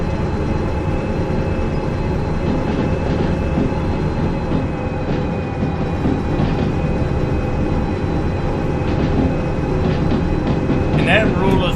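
A train slowly pulling away in the railway game Derail Valley, a loud, steady, low engine rumble and rolling hum that holds constant throughout, with a voice talking over it.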